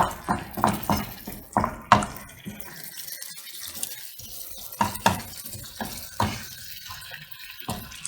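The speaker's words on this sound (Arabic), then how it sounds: "وغادي نخلطو مزيان هادشي" A spoon stirs tomato sauce with garlic and seasoning in a cooking pan, giving close scraping and clinking strokes in an irregular rhythm with quieter wet mixing between them, and no talking.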